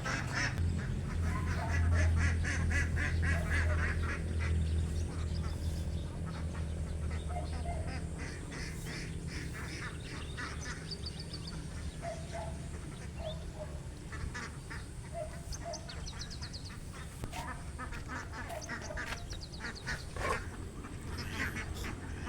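A flock of about a hundred domestic ducks quacking and honking continuously, a dense outdoor chorus of overlapping calls, fairly steady in level and moderately close.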